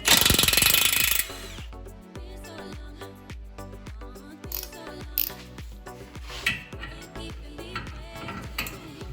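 An 18 mm tie rod end nut comes off a Mustang GT500: a loud mechanical burst opens, then a run of close, uneven ratcheting clicks and metallic knocks follows.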